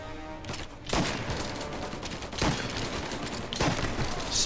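Rapid gunfire from the Mafia video game: dense bursts of shots in quick succession, loud and close, with heavier volleys arriving about every second or so, no talking over it.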